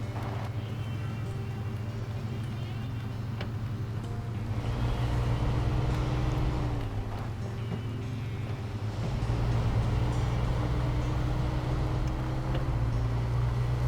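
A heavy truck's engine in the snowy off-road driving game SnowRunner, its engine damaged and fuel running out, drones low and steady throughout, swelling louder in the middle and near the end with a faint windy rush on top.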